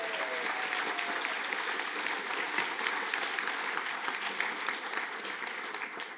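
A crowd applauds steadily, a dense wash of clapping that holds at an even level throughout without pausing.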